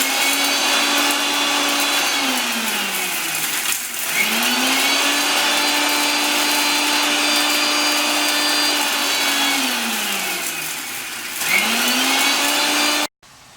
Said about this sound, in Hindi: तब तक हम जो हमारा गरम मसाला है इसे ग्राइंड करके पाउडर बना देंगे।